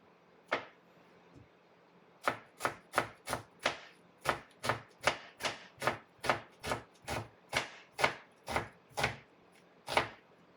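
A knife slices thinly through onion on a cutting board for pickled red and white onions, one lone cut and then a long even run of about twenty sharp, crisp chops close up with no talking.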